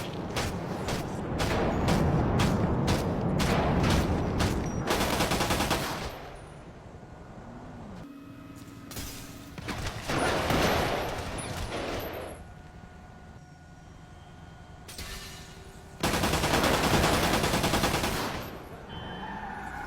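Gunfire sound effect: rapid bursts of loud shots, a fast volley at the start followed by several separate heavy bursts spaced apart, close and harsh with no talking.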